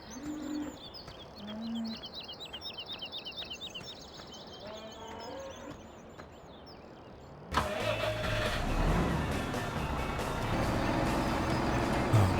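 Tractor engine in Farming Simulator 17 runs as a steady mechanical drone, joined midway by a louder, rougher engine roar with chirping bird ambience early on; no talking.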